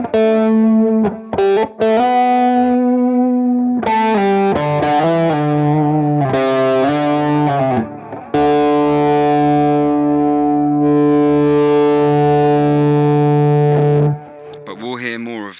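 Electric guitar played through a 60s fuzz effect on a BOSS GT unit, sounding thick and distorted with short chords and notes giving way to long sustained ringing tones, loud and close with no talking.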